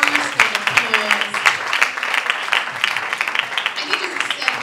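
An audience at a celebrity event applauds for Moyosoreoluwa, a dense, steady wash of many hands clapping with voices mixed in, close and fairly loud throughout.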